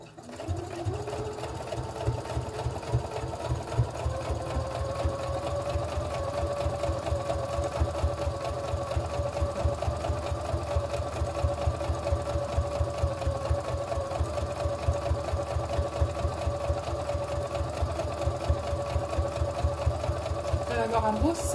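Sewing machine running steadily to stitch a seam close to the edge of a fabric tart-carrier bag, a continuous fast mechanical whir with rapid needle pulses throughout, close and loud, with someone talking over it.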